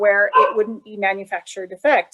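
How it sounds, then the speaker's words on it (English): Barking from dogs in the house breaks in briefly as a few short, sharp yips under steady close-up speech from a person talking throughout. "I'm so sorry about my dogs."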